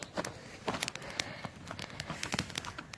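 Campfire burning outdoors in snowy winter weather just below freezing, giving off a steady run of sharp irregular crackles and pops, close and fairly loud, with no voices.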